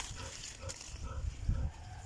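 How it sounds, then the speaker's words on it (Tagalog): Pigs eat kangkong at midday feeding time on a farm, with low, close snuffling, grunting and chewing sounds that continue steadily, with a slightly stronger burst near the end. "Ito na yung bali pananghalian ng ating mga baboy."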